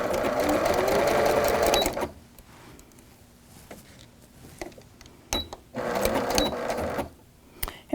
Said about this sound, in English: we're going to stitch a straight line coming out and stopping right here where I have the pin